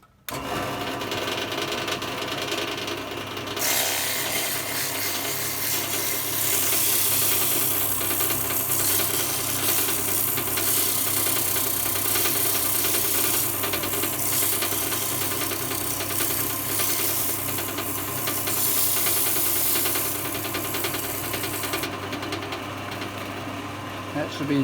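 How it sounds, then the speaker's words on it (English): A drill press spins a wooden wheel fast while sandpaper is held against it, a steady motor whir with a rising hiss of abrasion through the middle, close and sustained, with occasional talk over it. "I'm just going to put the wheel in the drill press, only just so I can spin it fast"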